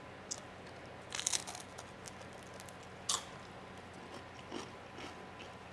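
A few crisp crunches from biting into oven-baked fried chicken, close and quiet, separated by pauses with no talking.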